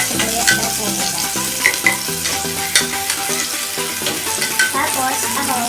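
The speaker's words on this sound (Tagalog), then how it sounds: "So, kailangan pag nag-igisa, sibuyas na pumunta." Onions sauté in a pan for a Filipino dish, sizzling loudly and close with repeated stirring knocks and scrapes throughout.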